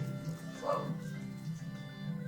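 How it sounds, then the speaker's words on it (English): A young, energetic pet dog barks in guard-dog fashion, a few yaps sounding at moderate distance over a steady background hum, with no talking. "She's just trying to be a like guard dog"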